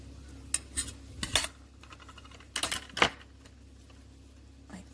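A blade cuts through a polymer clay cane edge on a hard work surface, making several short, sharp clicks and taps in irregular bursts, close and fairly quiet.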